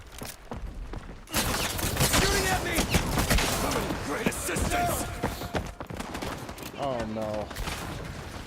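Dense gunfire in the Highguard video game rattles on in sustained bursts and volleys over several seconds, loud and close, while voices talk over the shooting.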